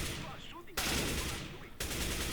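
Rapid automatic gunfire from a rifle in the game CS:GO rings out as two loud, sharp bursts about a second apart, each starting abruptly and trailing into echoing decay.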